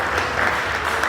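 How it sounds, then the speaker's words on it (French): An audience applauds at the Bamoun du Benelux 2025 event, with dense, steady clapping from a large crowd that stays loud and even throughout. "Applaudissez, s'il vous plaît."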